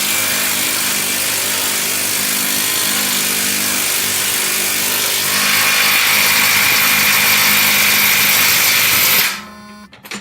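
Impact wrench turning a shock absorber bolt on a Ford Edge: a steady, loud mechanical whirr that runs continuously, rises slightly in pitch partway through, then cuts off abruptly near the end.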